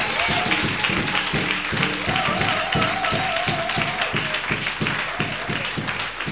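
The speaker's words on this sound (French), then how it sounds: "On acclame très fort le roi des rois." A church congregation at a Sunday service claps steadily and loudly in rhythmic unison, mixed with crowd noise, a sustained musical tone and some voices.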